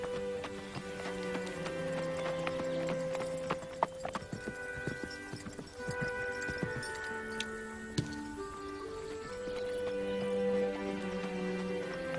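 A horse's hooves clip-clop steadily at close range in an outdoor ranch setting. The rhythmic, hollow beats sound over faint tonal background music, and nobody speaks.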